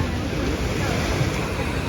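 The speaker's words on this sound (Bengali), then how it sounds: "খুব সুন্দর ঢেউ" Sea waves surging and breaking near a shore, a steady broadband roar mixed with wind buffeting the microphone, with no clear speech.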